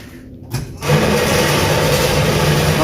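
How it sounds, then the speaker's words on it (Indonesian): Two electric feed motors switch on inside a 100 by 12 metre chicken house, a quieter hum giving way to a loud, steady mechanical drone that holds without a break. "untuk motor pakan sudah menyala 2 unit"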